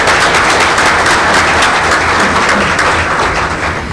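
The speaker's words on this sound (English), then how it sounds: "let's have a round of applause for our sponsors" An audience at a business association infrastructure event applauds the sponsors, a dense and loud sustained wash of clapping that fades slightly toward the end.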